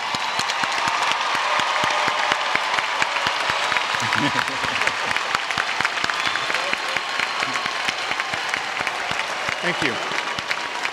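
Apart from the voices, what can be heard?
applause for graduating honors students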